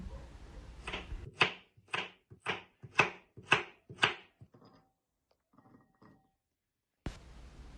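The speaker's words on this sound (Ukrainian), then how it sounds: "Одну морквинку Теж нарізаю маленькими кубочками." Seven crisp knife chops dicing a carrot on a cutting board at a steady rhythm, close by, followed by quiet clinks and a pause.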